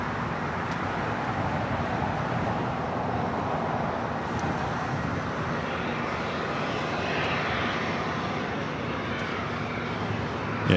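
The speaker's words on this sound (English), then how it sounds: "the A330 Neo, now pushing it back from the north side gates of Tom Bradley" Airliner activity at Los Angeles LAX airport as an Airbus A330neo pushes back from the Tom Bradley gates, a continuous broad jet engine roar with no gaps, loud and steady for the whole span.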